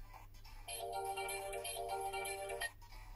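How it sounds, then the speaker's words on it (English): A short electronic ringtone melody plays on a Motorola One phone for about two seconds, clear and fairly quiet, with no talking over it. "you can choose the phone ringtone here"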